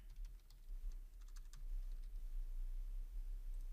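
Quick bursts of light clicks from a computer keyboard as a prompt is typed into an animation generator, close and faint over a low steady hum, with scattered keystrokes trailing off into quiet.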